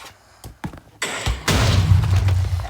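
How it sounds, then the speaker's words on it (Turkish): A few sharp pops, then a heavy blocky boom that swells into sustained rumbling crackle, like stacked TNT going off in Minecraft. "Şu an tek duyduğum ses patlama sesi geliyor"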